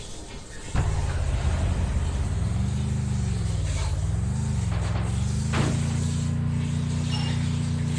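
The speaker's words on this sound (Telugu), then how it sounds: "సర్లే బండి వేసుకుని వెళ్దాం." A car in the Free Fire game starts abruptly and drives on with a steady, loud engine drone whose pitch rises and dips as it accelerates and eases, with a brief spray-like swish midway and no talking.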